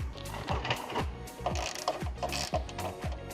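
A ratchet tightens nuts onto the bolts of a ladder being fitted to a Mercedes Sprinter van, making steady, close, repeated clicking strokes in a quick back-and-forth rhythm with no talking.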